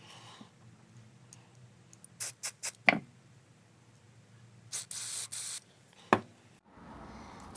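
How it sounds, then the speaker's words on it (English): Short bursts of aerosol spray cleaning the idle jets of a 1983 Honda CT110 carburettor, several quick hissing squirts in two clusters with small clicks and handling noises between, close and otherwise quiet. "So I was just cleaning out these idle jets."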